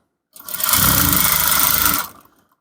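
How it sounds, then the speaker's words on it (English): A sewing machine runs one steady burst of stitching for about a second and a half along the seam of a men's palazzo trouser, close and loud, with nothing else heard. "So here you stitch all through"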